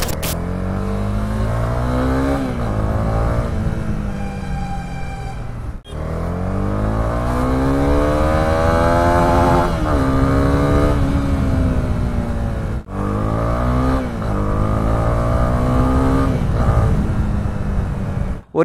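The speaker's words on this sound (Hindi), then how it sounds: "बिल्कुल ये बाइक मुझे बहुत प्यारी लग रही है और बहुत अच्छा भाग रही है," A Honda CB300R motorcycle on a test ride accelerates hard through several gears, its engine note climbing in repeated rising sweeps with brief dips at each shift, loud and close.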